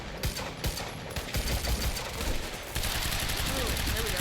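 Rapid, dense gunfire erupts in Quantum Break, close and loud bursts overlapping into a sustained barrage with game dialogue mixed in.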